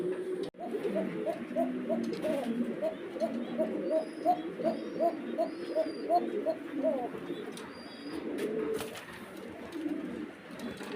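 Pigeons coo in a regular, repeating series of soft throaty calls, fairly close, over a light background hum.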